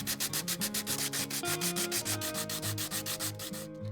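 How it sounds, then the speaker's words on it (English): Quick, rhythmic rubbing strokes of sandpaper scrub back and forth over a hard epoxy resin surface, close and steady, about a dozen strokes in a row. "so I'm going to give it a quick sanding."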